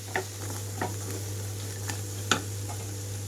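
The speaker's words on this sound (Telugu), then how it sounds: "లో ఫ్లేమ్లోనే ఉంచి కలుపుకుంటున్నాను" Black-eyed bean chaat tempering stirred in a pan over low flame: a few sharp spoon scrapes and clicks spaced apart over a faint sizzle and a steady background hum, with no talking.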